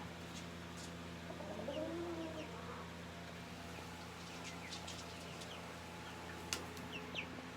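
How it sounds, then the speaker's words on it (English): Silkie hens that recently hatched chicks cluck softly now and then on a homestead, faint against steady background hum, with a few brief higher chirps scattered through. "my silky chickens that just hatched out babies not even like a month and a half ago are already sitting again on more eggs"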